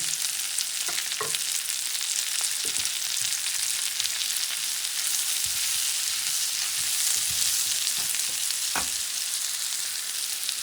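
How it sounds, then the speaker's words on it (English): Sliced mushrooms, garlic and onion sizzle steadily in a hot pan on medium-high heat, a close constant frying hiss with occasional soft stirring knocks. "I'm adding mushrooms, sliced garlic, and sliced"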